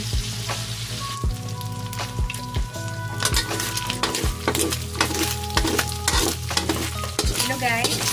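Bacon frying in a pan for carbonara gives a steady, dense sizzle that runs throughout, with regular scraping stirs and occasional light clinks of a utensil against the pan.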